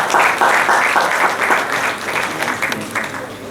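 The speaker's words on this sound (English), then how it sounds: "Please a round of applause for him also." Applause from an audience at an international management and entrepreneurship conference, a dense, steady wash of clapping that fills the whole stretch at close range, slowly thinning toward the end.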